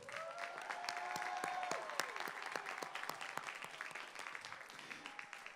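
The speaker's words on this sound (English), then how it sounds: "Let's give our graduates a round of applause." Applause for graduates at a Leeward Community College commencement ceremony in Hawaii, steady clapping from a crowd lasting several seconds with some cheering tones, moderately distant.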